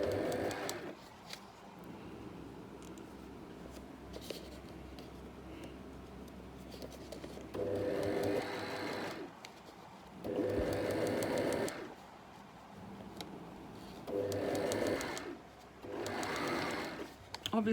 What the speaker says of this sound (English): just really carefully stitch a line as close to that zigzag as possible